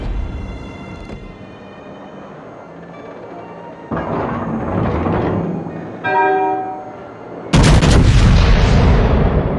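Heavy naval guns firing in the World of Warships video game: a dull boom mid-clip, then a very loud, broad blast that rolls on over a low ambient hum.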